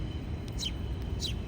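Birds chirp outdoors in Berlin: two short, faint tweets stand out over a steady background of city ambience, with no one speaking.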